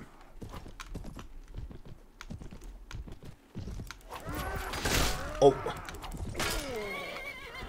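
In Mount & Blade Warband, a horse's hooves clip-clop in a quick run and the horse neighs loudly, with whinny calls rising over the galloping near the end; someone talks and exclaims throughout.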